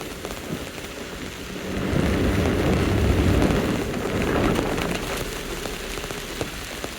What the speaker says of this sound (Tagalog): Tumarayang ulan.